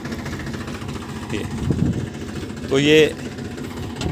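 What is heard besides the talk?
tractor-driven weeding machine in cotton field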